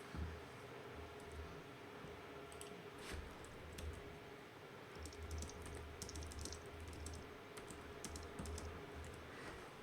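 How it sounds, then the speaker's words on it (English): Steady keyboard typing, a quick run of soft clicks and taps throughout, fairly close, over a low background hum. "As you can see by hearing the sound of my typing,"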